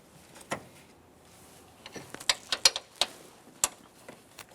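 A ratchet snugs a radiator mount bolt on a 2015-2019 Subaru Outback in a series of quiet, irregular clicking bursts, close but faint, with no voices.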